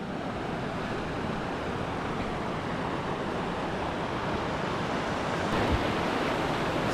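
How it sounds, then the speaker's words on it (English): A wide river in the Jotunheimen mountains rushes past, a loud, continuous broadband roar close by with some wind buffeting, no speech. "Okay, a bit of a wider river here."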